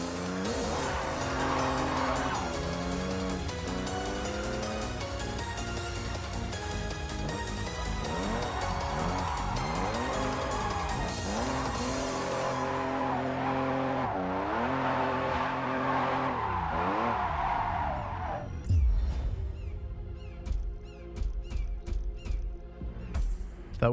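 A drifting car in a video game oversteers with a loud, continuous tire squeal over a revving engine that rises and falls in pitch, ending with a skid and a few bumps.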